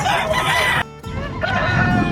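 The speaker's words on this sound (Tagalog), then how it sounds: "Ah, manok oh" A rooster crows loudly and close by at a pet market among gamefowl and pigeons, its call broken by a brief pause before more crowing and fowl noise resume.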